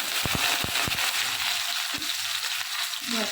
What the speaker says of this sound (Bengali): তো চলো তেল গরম হয়ে গেছে, পেঁয়াজটাকে দিয়ে দিই এবার